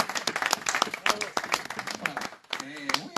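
Scattered clapping from a small café literary audience, sparse uneven claps rather than a full ovation, mixed with chatter and a voice speaking over it.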